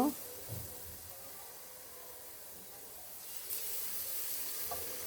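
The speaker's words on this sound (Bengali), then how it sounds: "এই ময়দার মিশ্রণে আমি একটা একটা করে আলু দিয়ে সয়াবিন তেলে দিয়ে দিব" Batter-coated potatoes frying in soybean oil in a frying pan, a faint steady sizzle with a few soft splashes and pops as pieces go into the oil.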